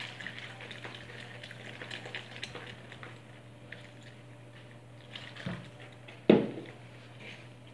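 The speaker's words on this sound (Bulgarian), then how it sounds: "започваме да наливаме топлата вода" Warm water poured into flour and a pinch of salt to knead a soft dough, a soft steady trickle and splash over a constant low hum, with a brief louder splash near the end.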